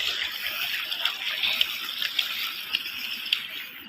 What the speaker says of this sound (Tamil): எல்லாம் உரம் தண்ணியெல்லாம் நிறையா போகுதுங்க.